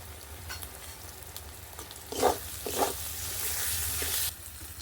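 Masala frying in a pan for ghugni as chopped tomatoes go in, a steady close sizzle with two louder bursts of spattering and stirring partway through, then a sustained bright hiss.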